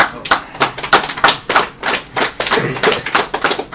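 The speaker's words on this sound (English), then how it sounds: "I'm gonna wait for the clapping to stop." A crowd applauds at a live video game speedrun event, with dense, irregular clapping that stays loud and steady throughout, with no talking.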